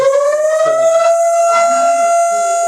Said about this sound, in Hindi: तो ये सायरन बज गया।